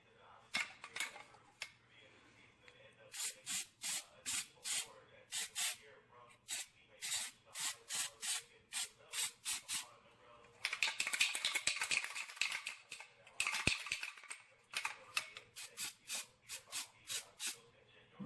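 Short bursts of aerosol spray paint hiss over rust repair on a Toyota AE86, in quick repeated puffs with a longer continuous spray near the end, close and fairly quiet.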